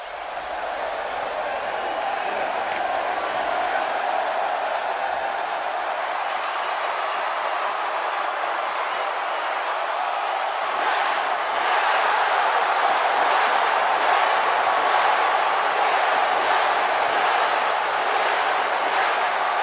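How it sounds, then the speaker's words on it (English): A large arena crowd in the WWE 2K18 wrestling video game roars continuously, a loud, dense wash of cheering that swells partway through with rhythmic pulses like chanting. "Sounds to me, guys, like this crowd is ready to get this night started."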